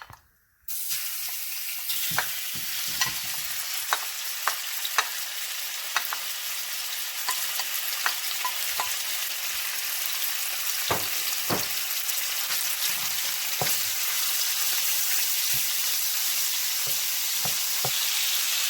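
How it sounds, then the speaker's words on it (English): Bacon frying in a pan for Jamaican ackee, a steady crackling sizzle that starts abruptly as it hits the heat, with scattered pops and spits throughout, close and continuous, no talking. "Put the bacon in and we're going to cook it."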